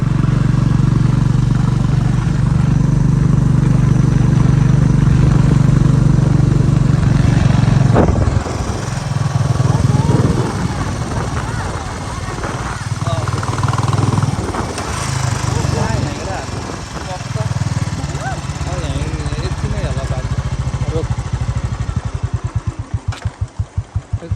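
A motorcycle engine on a rural ride thrums loudly up close, steady at first, then rough and uneven as the revs shift, with voices now and then and a fast sputtering burst at the end.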